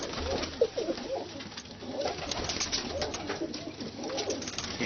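Ali wale breed pigeons in a breeding cage coo and call in a steady, close-up chorus, overlapping birds murmuring over faint background hiss with no talking.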